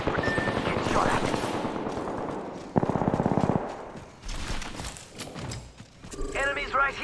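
Rapid gunfire in a shooter video game: a fast, loud burst of automatic shots mid-clip among other clattering combat noises, with a voice speaking at times.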